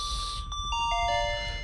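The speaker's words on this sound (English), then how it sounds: "This particular instrument is called lo-fi mallets" A short run of bright, bell-like lo-fi mallets synth notes climbing in a quick arpeggio, each ringing and overlapping over a low hum.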